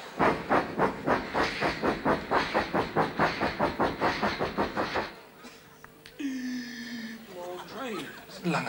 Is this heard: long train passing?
yes